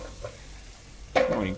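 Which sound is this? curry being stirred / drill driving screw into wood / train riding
curry being stirred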